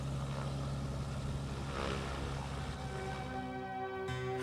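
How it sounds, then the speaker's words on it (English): Small aircraft engines droning steadily at Talkeetna airport in Alaska, the summer gateway for Mount McKinley climbers; a continuous broadband engine rumble with a rising tonal whine near the end, no voices. "During the busy summer, the airport pulses with engine noise."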